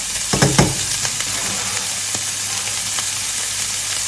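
Pork belly stir-fries in a hot pan with garlic and fresh chili, a steady close sizzle marked by a few brief stirring scrapes near the start and no talk.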